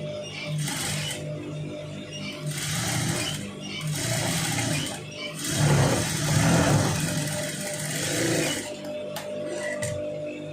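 A sewing machine stitches a long sleeve in several runs of steady, fast, whirring needle strokes, with a long run in the middle and short pauses between, close and alone with no talking.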